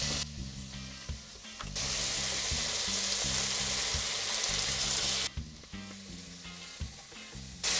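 Chicken pieces fry with onion in a pan, giving a loud, dense, steady sizzle broken by short stirring clatters near the start and end. No one speaks.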